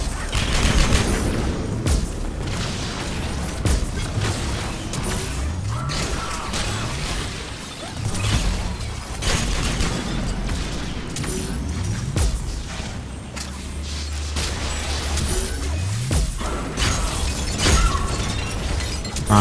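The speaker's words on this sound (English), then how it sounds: "the claymore feels so powerful when you shoot it. Such an awesome sound" Heavy gunfire from a claymore weapon in a shooter video game, loud repeated booming shots and crashing impacts layered over continuous battle noise and game music throughout.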